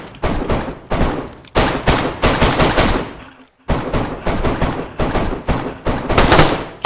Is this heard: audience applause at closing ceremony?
no